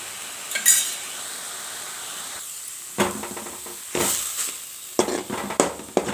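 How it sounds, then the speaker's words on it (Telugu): Green chillies and cumin fry in a spoonful of oil in a pan for a tamarind-leaf chutney, with a soft hiss broken by several short, scraping bursts of stirring. "ఇందులో ఒక స్పూన్ ఆయిల్ వేసుకొని బాగా గోల్డెన్ కలర్ వచ్చేలాగా వేయించుకోవాలి"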